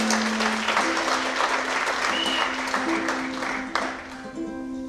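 Audience applause greets performer Jake Peters at a live show in a performing arts centre, a dense steady clapping from a full room that carries on for several seconds before slowly thinning out.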